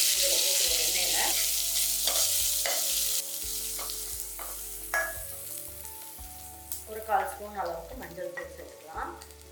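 Mustard seeds, urad dal, dried chillies and garlic sauté in hot oil, giving a steady loud sizzle broken by repeated scraping strokes of a spatula against the pan, growing busier toward the end.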